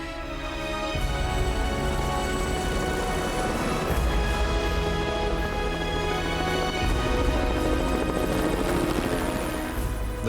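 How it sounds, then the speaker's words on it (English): A rescue helicopter flies close overhead, its rotor beating in a loud, steady pulse with a whining turbine above, continuous and unbroken by any voices. "The helicopter rushes Sonja and Marni to safety."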